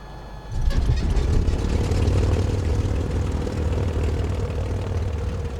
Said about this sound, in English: You can really feel that 285 horsepower radial engine beneath you throbbing